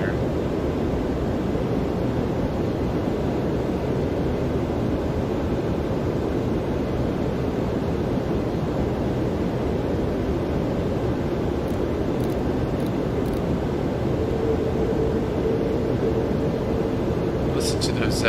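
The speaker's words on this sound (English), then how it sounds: "Listen to those engine sounds again." Simulated Toliss A340-600 airliner in X-Plane 12 at cruise, its four engines giving a steady, loud broadband roar with a low rumble that holds unchanged throughout, a faint high tone entering near the end.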